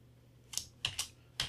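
Keystrokes on a computer keyboard while typing a short note, four or five quiet clicks in an irregular burst, close by with no talking.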